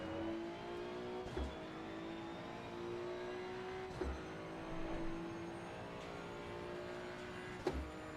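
Race car engine in Assetto Corsa Competizione at the Red Bull Ring, a steady mid-pitched drone rising and falling through gear changes, with sharp shift blips roughly every few seconds, fairly quiet and with no voice.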